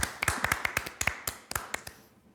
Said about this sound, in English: let's make a warm round of applause for Tomasz and Team Crio